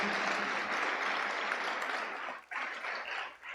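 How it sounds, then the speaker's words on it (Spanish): A church congregation applauds, dense sustained clapping from many hands that fills the room, then thins and breaks off briefly before a few scattered claps return. "Denle un aplauso al Señor, pero denle un aplauso también"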